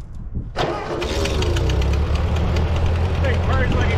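An 80-year-old Ford 9N tractor with two flat tires cranks briefly after stalling, then catches and settles into a loud, steady, rough-running idle close by.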